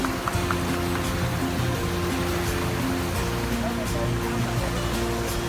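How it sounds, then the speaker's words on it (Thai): Water rushes at the base of Plai Nam waterfall in Nakhon Si Thammarat, Thailand, a loud, dense, unbroken roar that fills the whole stretch without pause. "ที่ที่ทุกคนเห็นตอนนี้นะครับเป็นเพียงพื้นล่างของน้ำตกปลายน้ำเท่านั้นนะครับ"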